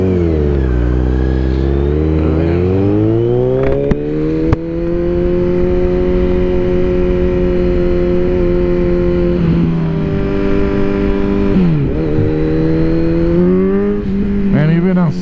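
A Kawasaki Z900 motorcycle accelerates hard in second gear, its engine note climbing steadily in pitch with loud, close exhaust roar and wind rush, easing briefly before pulling again.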